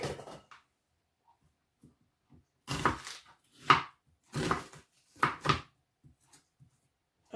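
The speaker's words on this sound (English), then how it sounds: "I'm just gonna dice these" A knife dices vegetables on a cutting board in short clusters of chopping strokes separated by pauses, close and clear in an otherwise quiet kitchen.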